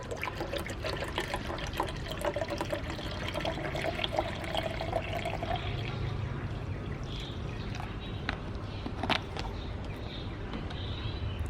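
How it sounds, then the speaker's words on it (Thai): Apple juice poured into a carrot drink mix, giving a continuous, fairly quiet liquid rush and splashing that holds steady for several seconds without speech. "ใส่ส่วนของ น้ำแอปเปิลเข้าไปนะคะ"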